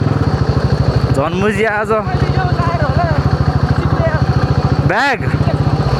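A KTM Duke motorcycle engine with a loose silencer runs with a steady, throbbing pulse close to the microphone, while someone talks over it through most of the clip.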